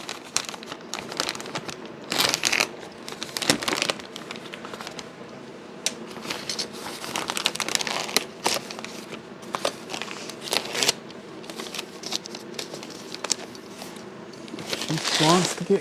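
Circuit boards, about 3 kg of pulse sequencer boards for a Miller 250DX welder, are pulled from a tightly packed shipping box, with steady crinkling and rustling of packaging, sharp tearing bursts and shuffling handling close by.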